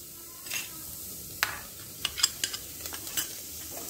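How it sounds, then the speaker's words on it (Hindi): Boiled bathua greens hit a hot pan and sizzle softly, with a few sharp clinks and scrapes of stirring scattered through the steady hiss. "अब ये देखिए बथुआ उबला हुआ है, इसको डाला जा रहा है"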